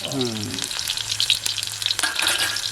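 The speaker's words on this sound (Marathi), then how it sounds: "फोडणीला लसूण घातले म्हणजे तेलामध्ये त्याचा फ्लेवर उतरेल" Garlic sizzling in hot oil as tempering for a fish curry, a loud, bright crackling fry that starts abruptly and keeps going. A brief voice is heard at the very start.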